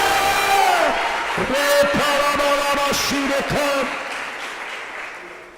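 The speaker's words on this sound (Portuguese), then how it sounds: "Pela salva de palmas e diga aleluia." A church congregation applauds and cheers loudly at an anniversary service, clapping mixed with shouts and whoops that rise and fall, voices calling out over the sustained clapping before it tapers off.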